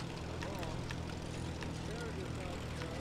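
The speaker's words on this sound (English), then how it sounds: "Is it the turbines or is it a plane again?" Low-flying propeller plane droning in the video game Titan Chaser, a steady engine hum heard under a speaking voice throughout.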